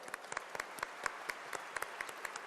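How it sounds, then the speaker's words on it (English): Light, sparse clapping from an audience at the opening ceremony of the International Film Festival of India, individual claps distinct and fairly faint, with no speech. "Let's have a huge round of applause for each one of them"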